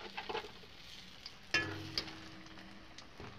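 Bengali egg chops (dim chop) fry in a pan with a soft, steady sizzle, interrupted by a sharp clack and brief louder crackle as one is turned over, fairly quiet and close, with no talking.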